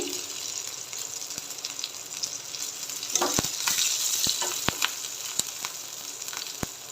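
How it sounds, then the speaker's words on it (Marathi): Crushed garlic and green chillies frying in hot oil, a steady sizzle that swells midway, with repeated sharp utensil clicks and taps against the pan and no voices. "तेल तापलं की ह्याच्यामध्ये ना पाच ते सहा बारीक ठेचलेल्या लसणाच्या पाख्या ॲड करणार आहे मी"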